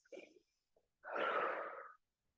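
Deep breaths during a standing figure-four stretch in a workout: a short breathy inhale, a faint pause, then a longer, louder exhale that fades out, close and alone.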